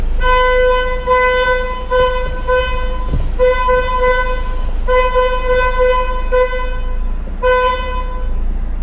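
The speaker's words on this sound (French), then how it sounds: "Ce vieux klaxon surtout." An old car horn honks repeatedly with a bright, buzzy tone, sounding in uneven bursts over a steady low engine rumble in a car painting workshop.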